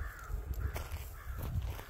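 Crows caw in short, scattered calls over a steady low outdoor rumble at a park after work, with a dog nearby; the calls sound moderately distant and irregular, with no talking.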